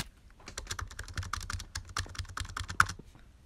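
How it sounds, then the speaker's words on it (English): Membrane keyboard keys, including the space bar, are pressed in a quick run of soft, muted clicks and thuds, close and clear with no talking. "That's the space bar. You know it's a membrane keyboard when you hear that, right?"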